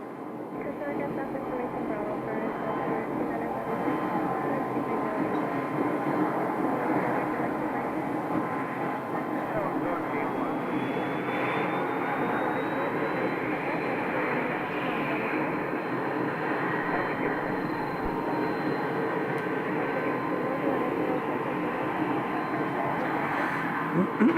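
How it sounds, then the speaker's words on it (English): Engine roar of a Hawker 400 business jet at an airport in Scottsdale, a steady broadband rush with a rising whine, sustained and fairly distant, with some talk over it. "Since this is actually a Hawker jet, it's a Hawker 400, it's not a Citation."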